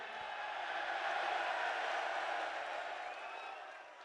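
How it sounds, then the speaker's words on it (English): At a UFC 304 press conference, a large crowd roars in a steady, dense wall of cheering and shouting that holds at high volume throughout, with voices faintly mixed into the din. "the crowd's that loud, I can't even hear you"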